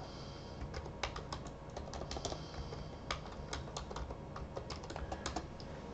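Quick, irregular keystrokes on a computer keyboard while typing text in the Vim editor, close and crisp over a faint steady room hiss, with no talking.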